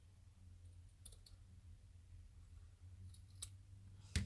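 Scissors cutting material while decorating a box, a few faint, crisp snips spaced apart over a quiet low background hum, with one slightly louder click at the end.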